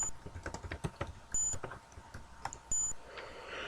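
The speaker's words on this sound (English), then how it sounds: "It seems to be emitting a high-pitched beep." A wrecked hovercraft in the Space Quest 2 video game emits short, high-pitched electronic beeps in a few repeated bursts, alongside scattered clicks and faint background sounds.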